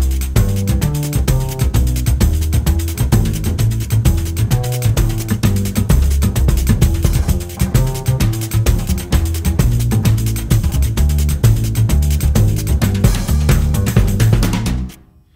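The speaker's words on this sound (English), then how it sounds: "this also works with an upright bass. So I played a simple samba pattern" A deep upright bass plays a steady, syncopated samba pattern with Brazilian swing over full rhythmic backing, loud and continuous, stopping abruptly near the end.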